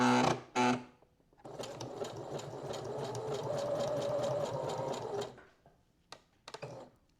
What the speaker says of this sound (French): Et bien là, je vais coudre.